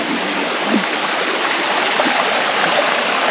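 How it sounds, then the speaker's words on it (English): Small creek running through the woods in Alaska, a close, steady babble and rush of water with soft gurgles, continuous throughout with no talking. "I want a cabin in the woods with a little creek like this running through it"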